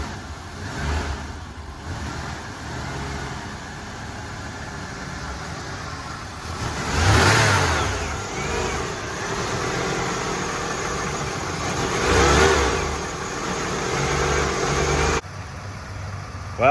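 A 1991 Ford LTD Crown Victoria fire department car engine running steadily at idle, with two louder revs swelling up around the middle and later, close and continuous throughout.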